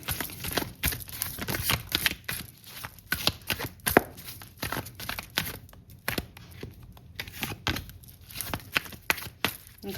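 Osho tarot cards being shuffled by hand, a steady run of soft riffling and snapping card flicks close up, with papery rustles between bursts and no talking.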